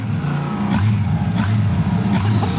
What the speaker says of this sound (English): Revving sound.